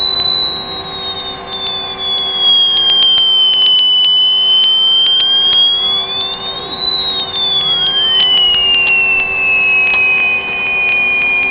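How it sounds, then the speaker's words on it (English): A FlowerPower device's rotor, driven toward a very high frequency, stalls out. A loud, sustained high whine glides slowly down and back, over a steady electrical hum with scattered faint clicks. "We can push it to where the rotor's going to stall out, like it's doing now"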